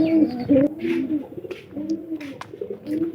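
Local pigeons paired with Giribaz pigeons coo in repeated low, throaty phrases, close and fairly loud, with a few soft rustles between the calls.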